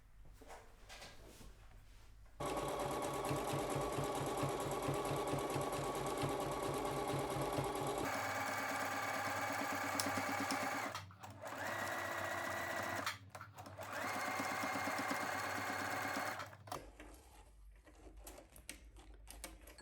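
A sewing machine runs in bursts as it zigzag-stitches the heart of an appliqué fabric flower onto a background cloth, a steady fast rattle with brief pauses between runs, close and loud with no talking.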